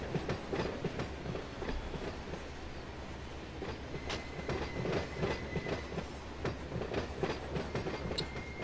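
A manifest freight train in the Run8 train simulator rolls steadily with a continuous rumble and rhythmic clickety-clack of wheels over rail joints, plus occasional faint squeals, and no voices.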